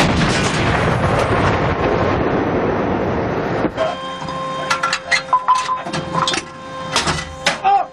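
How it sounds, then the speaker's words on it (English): A tank gun fires a HEAT round inside a tank, sounding as a loud, sustained roaring blast for several seconds followed by quieter mechanical clanks and a ringing tone, with voices heard. "Gunner heat tank. Fire!"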